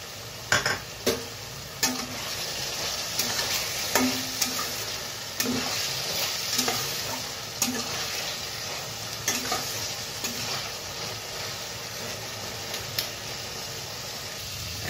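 A spice paste with tomatoes sizzles steadily in a pan for a koi fish curry with cauliflower and potato, punctuated by regular, sharp spoon scrapes and taps, close and fairly loud.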